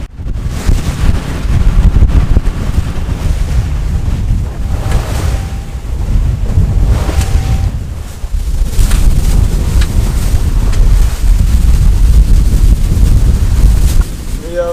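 Sailboat sailing close-hauled with the engine off, pitching hard into roughly one-metre waves against the wind; continuous loud wind buffeting and rushing water with repeated surges as the bow slams, heavy low rumble throughout.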